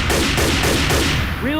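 Rapid automatic gunfire in Left 4 Dead 2 rattles in a fast, loud burst up close, dense and continuous before breaking off near the end into a brief whistling tail.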